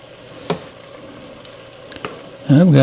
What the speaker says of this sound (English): My meat and onions cooking, looking good over there, guys.